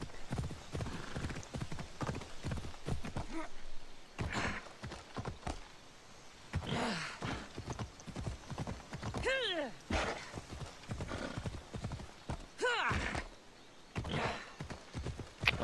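Hooves clip-clop in a steady rhythm as a winged horse is ridden in Assassin's Creed Odyssey, with occasional neighs and a voice speaking over the game sounds.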